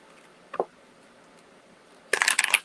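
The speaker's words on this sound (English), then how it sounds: "Like one more shuffle is in order." A tarot card deck being shuffled during a live reading, heard as a short riffle near the start and then a louder, denser burst of card flutter at the end, with quiet room tone between.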